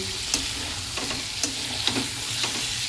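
Chicken sautéing in a pan makes a close, steady sizzle broken by several sharp clinks and scrapes of a spatula stirring, with no talking.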